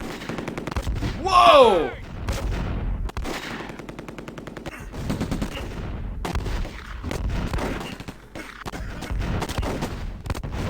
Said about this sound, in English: I can hear an MG42 firing.